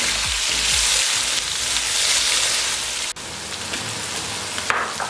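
Ginger garlic paste frying in a pan for chana pulao, a dense, loud sizzle with a couple of quick stirs early on and a sharp knock midway, continuing close and steady with no voices.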